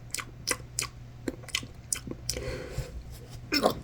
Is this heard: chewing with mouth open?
yes